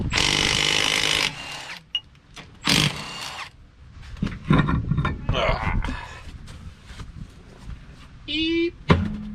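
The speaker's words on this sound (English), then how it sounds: "let's get this wheel pulled off and see what the heck's going on in here." A power tool whirs in loud bursts while a wheel is pulled off a high-mileage 1991 Chevy Silverado pickup truck in a garage, followed by clanks and someone talking between them.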